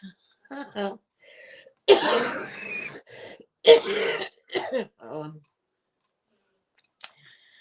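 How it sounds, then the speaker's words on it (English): A couple of rough, throaty coughs sound up close, separated by short gaps, with faint murmurs and small clicks between them. "I'm not liking my cough at the moment"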